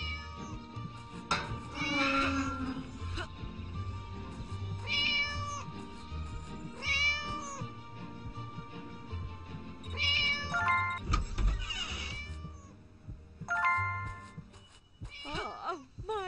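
A cat in the Scary Teacher 3D video game meows repeatedly, several distinct drawn-out cries spaced over a steady low background, close and fairly loud, with no talking.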